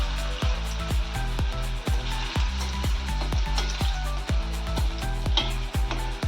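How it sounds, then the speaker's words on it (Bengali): Banana koftas deep frying in oil over a medium gas flame with a busy, continuous sizzle and bubbling, punctuated by regular low thumps, close and steady. "গ্যাসের ফ্লেমটা মিডিয়ামে রেখে কোপ্তাগুলো ভেজে নেব"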